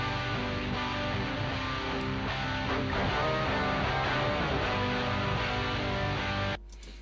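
Layered guitar parts from a song play together in a dense, continuous strum-and-melody texture that fills the whole stretch, steady and full before cutting off near the end.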